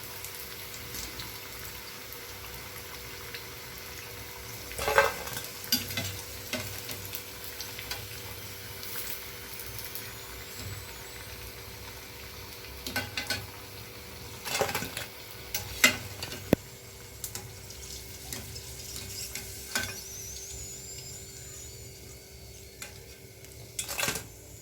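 Capsicum bajji fry in hot oil with a steady, soft sizzle and bubbling, broken by a few clinks and scrapes of a utensil against the pan; no one speaks.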